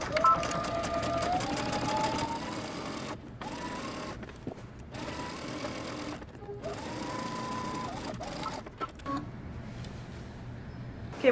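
Sewing machine stitching along a coat seam with backstitching, a close, steady mechanical whir broken by several short pauses and restarts, with occasional clicks between runs.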